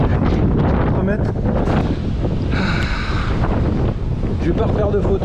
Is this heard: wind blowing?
yes